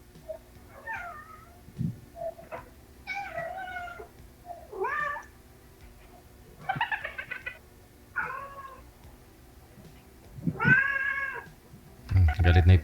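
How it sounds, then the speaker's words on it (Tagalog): A cat meows angrily in a long series of drawn-out, wavering cries at close range, with rising and falling pitch, and a brief low thump near the end. "Galit na yung pusa."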